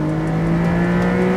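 A 2022 Porsche 911 Targa 4 GTS engine revving hard, a loud, steady high-pitched flat-six drone holding strong tones close up, with no talk over it.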